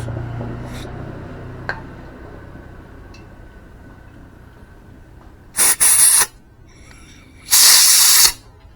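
Two bursts of aerosol injector cleaner sprayed onto the fuel injector of a Honda Blade 125 Fi motorcycle, a short hiss followed by a longer one, loud and close, with faint background noise between them and no talk.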